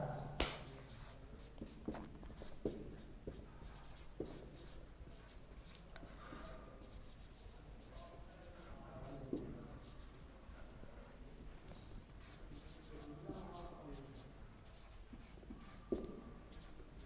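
Chalk or pen scratches steadily across a board as experimental physics results are written out, rapid strokes with occasional sharp taps, close but fairly faint over a low room hum.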